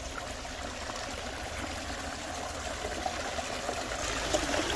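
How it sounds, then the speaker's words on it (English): Small garden pond waterfalls trickle over rocks in a steady, close, continuous splash and gurgle, slightly swelling toward the end, with no voices. "I wanted to come in so I could show you the waterfalls over here."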